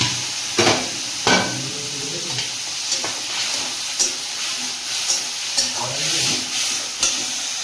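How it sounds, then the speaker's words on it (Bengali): A spice paste with chopped ginger, coriander leaves, salt, a little water and cumin powder is sautéed in a pan. It gives a loud, continuous sizzle broken by repeated knocks and scrapes of a stirring spoon, and no one speaks. "ভালো করে মশলাটা কষিয়ে নেব।"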